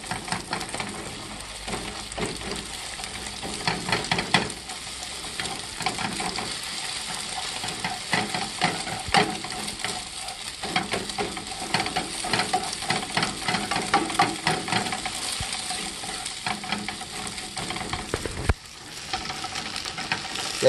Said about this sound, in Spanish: rápidamente hay que empezar a revolver y hacer como ligeros cortes